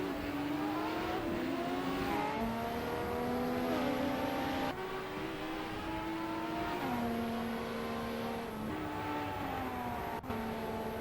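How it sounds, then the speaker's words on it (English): AI-driven supercars racing at Long Beach in a racing simulator game, with high engine whines rising and dropping through gear shifts and revving steadily, several cars droning together with no voices. "We just witnessed some exciting racing in the simulator"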